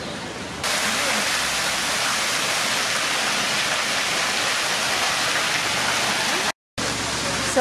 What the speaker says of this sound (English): So behind me you can see the cascades, which are called like that because of the running water